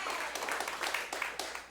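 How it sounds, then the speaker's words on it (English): A small comedy club audience claps briefly at a stand-up set, a thin scatter of hand claps that tapers within two seconds. "thank you so much for that applause"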